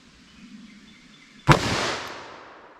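A single sharp .357 Magnum gunshot fired with Federal HammerDown ammunition in a ballistic gel test, a loud close crack followed by a long rolling decay after a quiet lead-in.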